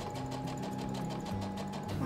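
A sewing machine runs steadily in a basic sewing class at a clothing-reform workshop, giving a continuous close mechanical whir with a rapid stitching rhythm for about two seconds, with no talking.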